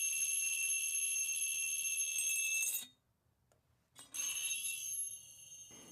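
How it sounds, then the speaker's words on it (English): An electric bell inside a glass jar rings continuously with a bright metallic buzz, cuts out for about a second, then starts ringing again and keeps going. "We hear a ringing bell, even though it's in a jar."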